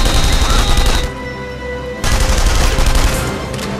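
Grenade blasts and gunfire in the video game The Saboteur, with dense loud bursts of shooting, a brief lull of about a second, then another heavy volley of shots and booms.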